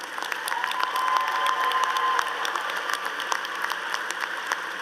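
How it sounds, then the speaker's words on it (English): Steady audience applause at a university commencement session, a moderate sustained patter of many hands clapping with faint crowd murmur, continuing evenly throughout. "Let's give them a round of applause."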